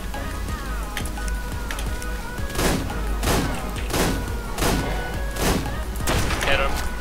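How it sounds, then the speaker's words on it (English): Sniper rifle shots ring out in ARK: Survival Evolved PvP at an ice cave, a series of sharp cracks spaced about a second apart over constant game ambience, with voices talking at times. "you can snipe him off."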